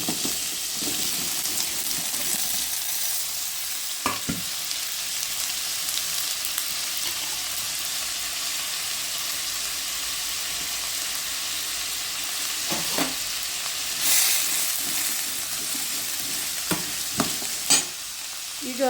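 Cauliflower frying in oil in a pan, giving a constant loud sizzle throughout with occasional utensil scrapes and clinks as the florets are stirred.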